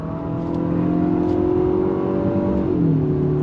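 A 2025 Infiniti QX60 Black Edition turbo engine pulling under throttle heard from inside the cabin, a steady droning whir that holds pitch, then drops in tone near the end.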